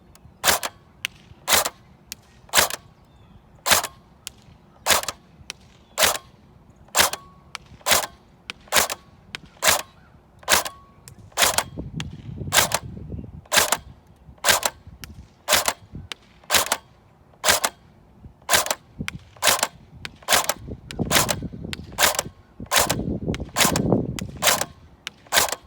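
An airsoft G3 SG1 rifle fires single shots at a target, about thirty crisp snapping cracks at a fairly even, unhurried pace, close and alone over a quiet outdoor background.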